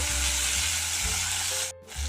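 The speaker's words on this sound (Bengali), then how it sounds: "দিয়ে দিচ্ছি টমেটো কুচো, দিয়ে দিচ্ছি সিদ্ধ করা আলু। এবার এটা ভালো করে আমি ভাজবো" Chopped tomato and boiled potato hit hot oil in a pan with a loud, close sizzle and a bit of stirring, then a brief dip near the end.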